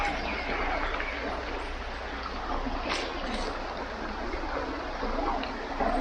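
Spring-fed stream of clear water at Liliw, Laguna, giving a soft, steady rushing and gurgling flow that continues unbroken throughout, fairly faint and with no other sounds standing out.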